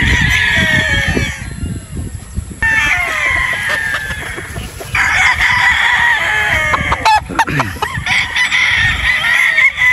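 A Sweater Boston gamecock broodstag crows repeatedly and clucks close by, sharp bursts of calls with short gaps between them, alone without talk.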